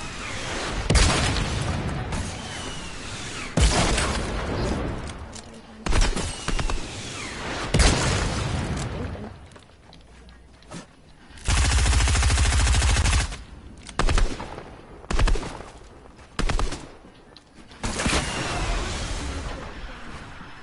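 Rockets and explosions in Fortnite come as loud, close bursts and booms in irregular clusters, with a sustained roar in the middle and short quiet gaps between blasts.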